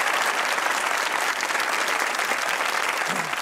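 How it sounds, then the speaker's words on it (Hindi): A studio audience claps steadily throughout, a dense, even wash of applause with no voices over it, at a comedy talk show. "तालियां बजाइए"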